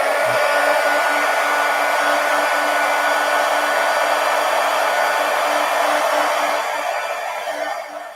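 A hair dryer blows on artwork in one steady, loud, continuous whir that holds its level and fades slightly near the end, with no talking.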